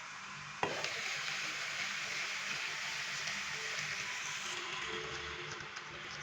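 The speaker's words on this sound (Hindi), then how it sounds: "1/4 कप पानी का डालेंगे।" A quarter cup of water poured into a covered pan of potatoes on a low-medium flame, a sudden splash followed by a steady hissing sizzle that continues evenly to the end.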